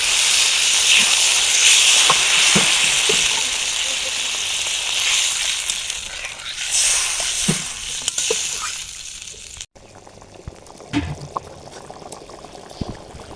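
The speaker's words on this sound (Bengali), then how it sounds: "এখন তরকারিতে ঝোল দিয়ে দেবো।" Broth poured into a hot pan of fish curry, cooked in a village-style snakehead fish curry, hisses and sizzles loudly and steadily for several seconds, then the sizzle drops to a quieter simmering bubble with occasional small clinks.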